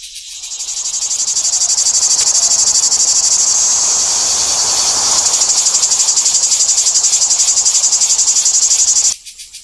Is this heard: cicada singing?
yes